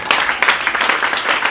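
A church congregation breaks into dense, lively applause, many hands clapping quickly and continuously at close range.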